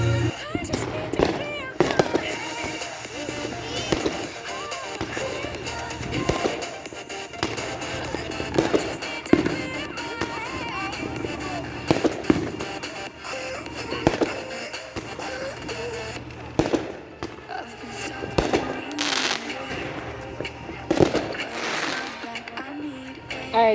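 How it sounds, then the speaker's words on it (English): Fourth of July fireworks bursting repeatedly over a backyard gathering, loud booms and crackles at irregular intervals across the whole stretch, mixed with people chatting and cheering nearby. "So we're just gonna spend some time and just watch that"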